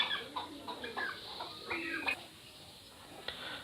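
Domestic country chickens cluck in short irregular bursts, fairly near but soft, in a farmyard with a quiet outdoor background and no talk.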